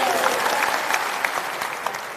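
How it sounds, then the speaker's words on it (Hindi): Loud, sustained applause fills a hall at a state-level Jan Suraaj workshop in Patna's Bapu Sabhagar, a dense, steady wash of many hands clapping with no voices over it. "एक बार मेरे घर में फिर से इसके लिए जोरदार ताली है"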